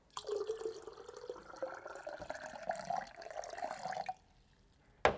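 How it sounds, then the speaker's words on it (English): Water poured into a vase for a foam-free flower arrangement, a steady gurgling trickle that rises in pitch as the container fills, then stops abruptly, followed by a brief clink. "So now we can put in the water."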